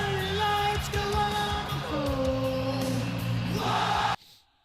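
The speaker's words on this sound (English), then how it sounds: "Listen to that crowd." A WWE Raw wrestling arena crowd roars and sings along loudly for several seconds as Cody Rhodes comes out, a dense, sustained wall of voices that cuts off abruptly near the end.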